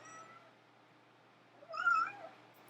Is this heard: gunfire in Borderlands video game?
no